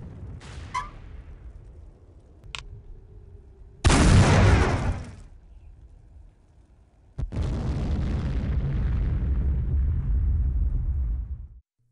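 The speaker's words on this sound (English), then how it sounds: "the weapon of mass destruction is instead replaced with a mini nuke launcher" Mini nuke launcher fire from the video game POSTAL: a short high whistle, then a loud, close blast burst, followed by a deep, sustained roaring rumble that rolls on for several seconds before ending abruptly.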